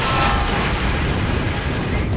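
Rockets from a Mustang aircraft explode on the ground in a Men of War Normandy battle, producing a loud, continuous rumbling roar of blasts and debris throughout.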